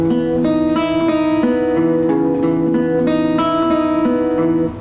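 Acoustic guitar plays the second part of a song, a close, loud run of bright picked notes over ringing chords in a steady rhythm, fading out at the end.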